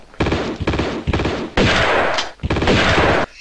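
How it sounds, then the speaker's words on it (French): Repeated shotgun blasts in the video game Tomb Raider 2, loud and close, in several long booming bursts separated by short gaps, with no talk over them. "Là, je devrais me le faire au fusil à pompe."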